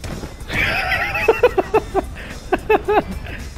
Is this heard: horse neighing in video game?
yes